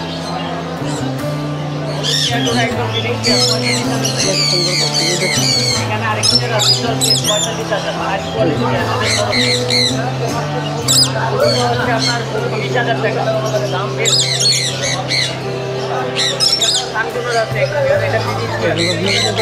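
Many birds squawk and chirp densely at Mirpur bird market in Dhaka, a steady, crowded chorus of calls over constant market hubbub, with people talking throughout.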